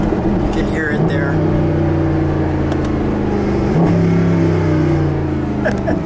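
A red 2011 Mercedes-Benz SLS AMG Gullwing under way, its engine giving a steady low drone that shifts pitch as it accelerates, loud and close from inside the car, with people talking over it.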